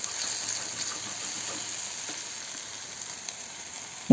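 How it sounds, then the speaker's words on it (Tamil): Onion and tomato with masala sautéing in a pan for egg rice make a constant hissing sizzle throughout, ending with a short knock at the close, no voices present. "வெங்காயம் தக்காளி வதங்கிறதுக்காக ஒரு 2 நிமிஷம் மூடி வச்சுக்கலாம். இப்போ வெங்காயம் தக்காளி வதங்கிருச்சு."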